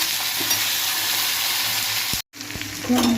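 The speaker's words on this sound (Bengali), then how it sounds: "এখানে বরবটিটা ভাজা হয়ে গেছে, বরবটি আলুটা।" Yardlong beans and potato pieces frying in a pan with cumin and chopped garlic, giving a steady close sizzle with light stirring and a brief cut near the end.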